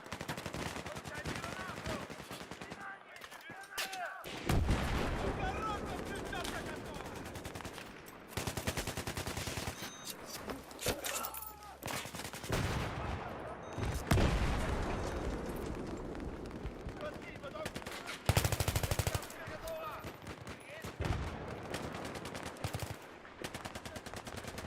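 Grenade blasts and bursts of gunfire from a Battlefield 3 match on PS3 keep up in loud, dense waves throughout, with a voice speaking now and then in the mix.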